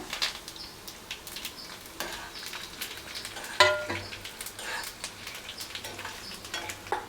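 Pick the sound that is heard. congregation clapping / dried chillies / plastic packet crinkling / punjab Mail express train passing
dried chillies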